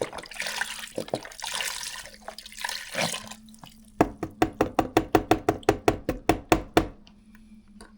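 Broth poured from a container into a pot for Instant Pot oxtails: a close, rushing splash of liquid at first, then a quick run of rhythmic glugging pulses as the carton empties.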